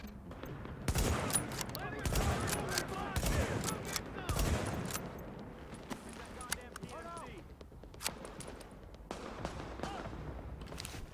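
Rifle gunfire in the video game The Division, with bursts of shots repeating across the scene at moderate loudness alongside other game sounds and a voice talking over it.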